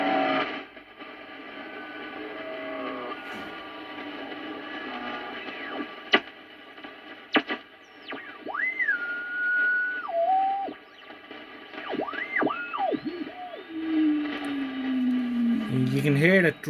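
An Eddystone EC10 receiver tuned near 4625 gives a hissy, crackling band where whistling tones slide and waver in pitch as the signal drifts, ending in a rising warble.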